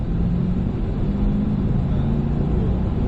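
A car drives on a race track under steady acceleration, giving a continuous loud low engine rumble with road noise that holds at an even level, close up, with no voices.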